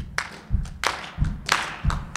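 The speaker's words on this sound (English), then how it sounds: "I need you to clap your hands and stomp your feet" Audience at a 2015 song showcase stomps feet and claps hands in a steady rhythm, low thuds alternating with sharper claps about every third of a second, moderately loud.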